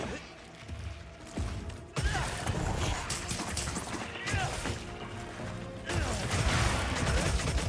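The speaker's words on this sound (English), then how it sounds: "Flashbang!" A flashbang goes off in a Monster Hunter fight amid repeated crashing hits, clanks and whooshes of combat, with a sharp bright burst near the end and a player talking over the action.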